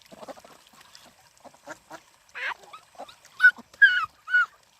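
Muscovy ducks on a country farm make a run of soft hisses and breathy calls, followed by several louder, rasping honk-like cries near the end, close by with no talk.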